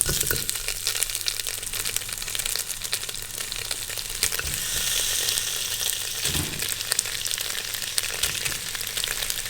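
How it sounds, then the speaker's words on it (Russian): Sheep tail fat rendering in a kazan on a stovetop, giving a continuous dense sizzle and crackle up close, with occasional stirring scrapes. "За основу мы берем курдючное сало и начинаем вытапливать его."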